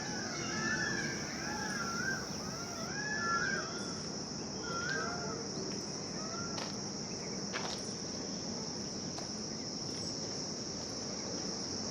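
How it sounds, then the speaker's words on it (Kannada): Birds call in short, curving whistles at a wildlife-area viewpoint watch tower, scattered through the first few seconds over a steady, loud drone of crickets and insects that fills the whole stretch. "ಹಾಗೆ ಇಲ್ಲಿ ಬರ್ಡ್ಸ್ದು ವಾಚ್ ಟವರ್ ಅಂತ ಹೇಳ್ಬೋದು, ಅಷ್ಟು ಚೆನ್ನಾಗಿದೆ ಬರ್ಡ್ ಸೌಂಡ್ಸು."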